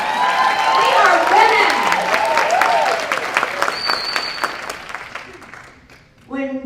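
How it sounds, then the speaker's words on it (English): Crowd at a women's conference breaks into loud applause and cheering, with excited voices rising over the clapping before it thins out and talking resumes near the end. "give yourselves a round of applause"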